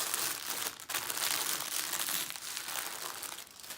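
Plastic packaging for a sea witch diamond painting kit crinkles steadily as it is folded back up, a close, continuous rustling with brief pauses and no voices over it.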